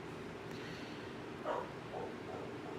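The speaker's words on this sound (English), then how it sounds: "that is the dog" A dog barks a few times, faint and somewhat distant, with short yips spaced about half a second apart against a quiet room background.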